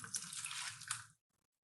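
Hot water runs steadily from a tap into a measuring container for a 250 ml cup, a close, hissing splash that stops abruptly after about a second.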